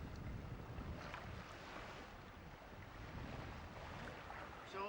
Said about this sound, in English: we're plodding along at about 4 knots under these 2 twin working jibs